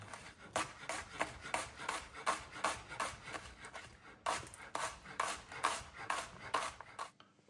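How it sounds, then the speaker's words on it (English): A knife slicing through a banana shallot down toward the root on a board, a steady run of quick, close, crisp cutting strokes in two bursts with a short pause between. "cutting your shallot down to the root, but not through it"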